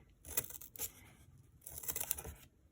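Scissors snip notches out of a cardboard loom, giving quiet, crunchy cutting and tearing sounds in two clusters of short, irregular snips with pauses between them.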